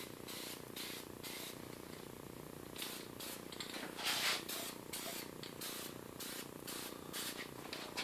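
An aerosol spray paint can sprays restored Atlas lathe quick change gearbox parts in short repeated hissing bursts, close up, with a longer louder spray near the middle.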